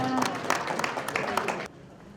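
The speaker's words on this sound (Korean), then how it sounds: "모두에게 박수 한번 힘차게 보내주시기 바랍니다" Audience applause at a Korean forum gathering with a former UN Secretary-General, steady dense clapping from a large crowd that holds for about a second and a half, then cuts off abruptly.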